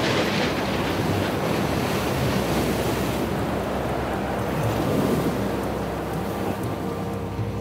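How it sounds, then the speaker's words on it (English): Big choppy ocean swells roll and crash while strong wind roars against the microphone aboard a tall sailing ship ahead of a low-pressure system, a loud, continuous wash of surf and gusts with no talking. "the choppy swells are getting pretty damn big"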